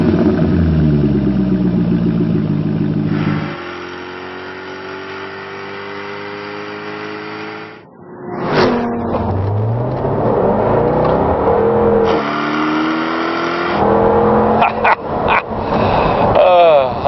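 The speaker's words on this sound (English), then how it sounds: "This supercharged Jaguar V8 engine is one of the world's all-time great motors." A supercharged Jaguar V8 in a 2015 Jaguar F-Type revs hard and repeatedly, roaring up and down through the gears with a deep, throaty growl, close and loud throughout.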